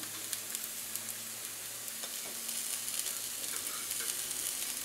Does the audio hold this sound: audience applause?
no